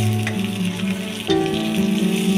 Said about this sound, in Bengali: মাছের মাথাটা দিয়ে দিলাম, এটা একটু ভেজে নিতে হবে।